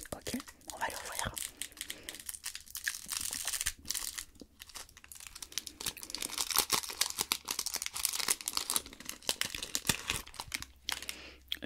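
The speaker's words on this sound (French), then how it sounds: "Guimauve saveur vanille. Ok, on va l'ouvrir." A wrapped vanilla-flavoured marshmallow being opened up close, a long stretch of dense, loud plastic crinkling and rustling with rapid irregular crackles and brief pauses, heard alone without speech.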